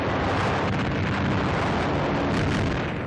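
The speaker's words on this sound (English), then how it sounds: "The target, a mass of explosions and fire." Bombs from a low-flying warplane blast a World War II target into a mass of explosions and fire, a dense continuous roar of rumbling blasts heard loud and close with no voices.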